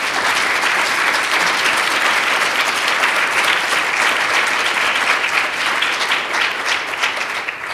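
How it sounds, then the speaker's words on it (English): A large audience at a public forum bursts into sustained, dense applause that stays loud and even for several seconds, with no break, before it begins to taper slightly at the end. "let's give them a round of applause"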